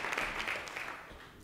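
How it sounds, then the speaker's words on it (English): An audience at a City of Atlanta Iftar dinner gives a brief, fairly soft round of applause, a dense wash of clapping that fades slightly as it ends. "Please give him a warm round of applause"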